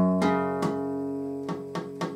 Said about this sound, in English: So it should sound like this if you pluck through each string.